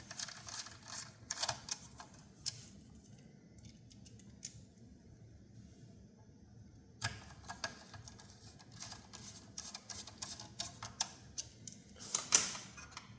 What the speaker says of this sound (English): You put the screws back in to stabilize the card.